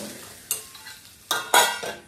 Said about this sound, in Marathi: थोडासा कांदा भाजायला लागला